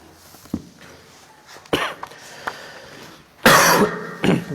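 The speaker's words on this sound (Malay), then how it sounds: "Batuk." A person coughs several times in short separate bursts, with the last cough the loudest and nearest, set against a quiet room.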